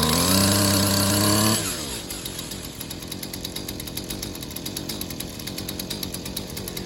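WeedEater Featherlite SST25 string trimmer's small two-stroke engine screams at full throttle with a high, steady whine, then drops abruptly to a rough, pulsing idle that continues loudly and close, with no voices.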